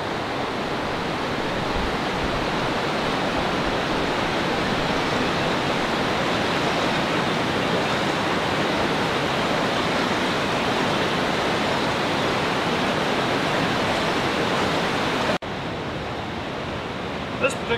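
Water of Idaho's Malad River flows just above a power plant, a dense, steady rushing wash that stays loud and unchanging, with no voices.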